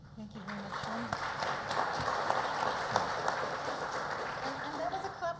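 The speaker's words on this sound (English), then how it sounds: "And that was a clap for Tim as well." Conference audience applauding a speaker, a steady patter of many hands clapping at moderate volume that runs the whole way through, with voices talking over it.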